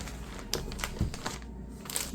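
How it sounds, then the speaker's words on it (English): A big plastic bag is pushed and handled close by while drying flowers in a flower press, giving scattered crinkly crunches and rustles in short bursts with one stronger crumple near the middle. "big old plastic bag"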